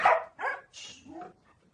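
A pet dog named Drill gives a few quick barks, close and loud, trailing off into softer yips.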